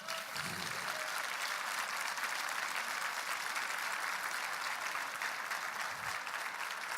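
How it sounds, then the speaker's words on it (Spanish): A church congregation claps during a sermon, a continuous wash of applause that sounds somewhat distant and soft, holding steady for several seconds. "Dale un aplauso de gloria a él."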